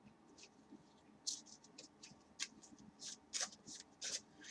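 A large deck of trading cards is shuffled by hand in quiet, close-up bursts of riffling and sliding, with short pauses between them.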